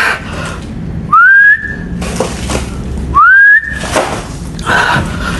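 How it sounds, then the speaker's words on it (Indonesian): Two short rising human whistles, each a clear bright slide held briefly, separated by a pause, with some background noise in between, inside an abandoned office building. "Kita coba sambil bersiul dulu ya teman-teman ya"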